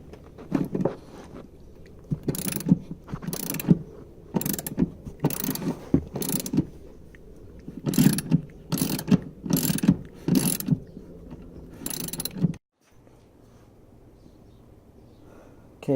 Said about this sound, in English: so now you have the screws all removed